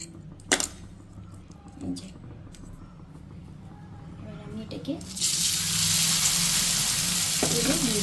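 Kulekhara greens fritters coated in dal and rice batter drop into hot oil, a loud steady sizzle that jumps up sharply partway through and continues broadband to the end, with a few light clinks and handling sounds before.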